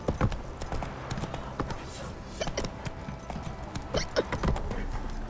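Horse hooves galloping in The Witcher 3, a steady run of close clip-clop beats under game music and ambience, with a rider briefly heard.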